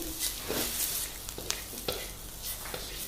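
Squid strips sizzle and fry in a pan over a high flame, with a steady crackling hiss and a few sharp clicks as they are tossed, close and fairly quiet.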